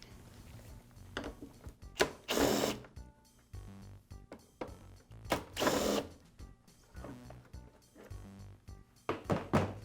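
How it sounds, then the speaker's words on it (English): A motor cover is being removed from a Briggs & Stratton small engine, producing a run of irregular thunks, clicks and scraping rattles of handled parts. The noises come up close and in uneven bursts, with no voice. "I'll begin by removing the motor cover."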